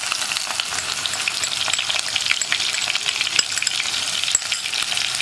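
Crushed ginger and onion frying in hot coconut oil in a pan, a steady, dense sizzle close by with small crackles throughout and no talking.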